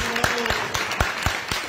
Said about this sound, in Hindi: इनके लिए जोरदार और ताली बजाओ